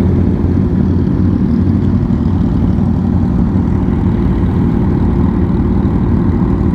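A Kawasaki Ninja H2 engine at a bike meet gives a steady, loud, low drone that holds throughout, with no clear revs or speech.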